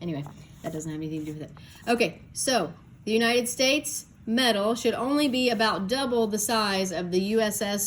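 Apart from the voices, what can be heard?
None of the usual background noises is heard.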